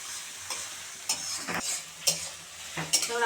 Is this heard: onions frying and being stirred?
yes